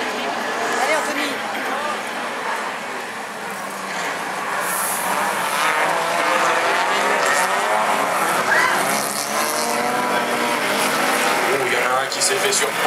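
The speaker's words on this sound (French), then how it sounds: "c'est le 11 Anthony Boiteux qui est allé faire un petit tour dans les extérieurs sous le nez du 80 Thomas Lotin" Fol'car race cars competing around a hairpin at Châteauroux, engines droning steadily with tyre noise mixed in, heard under continuous excited commentary throughout.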